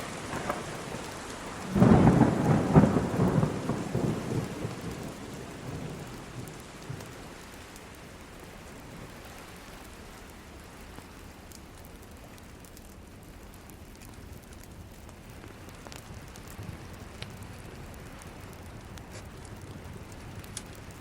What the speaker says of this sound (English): a sudden thunderstorm broke out behind the rocks we were approaching